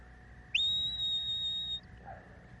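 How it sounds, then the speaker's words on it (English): A sheepdog handler gives a single sharp whistle command, a clear steady tone held for just over a second against quiet outdoor background. "So I proceed with the whistle and then give the words command that I want."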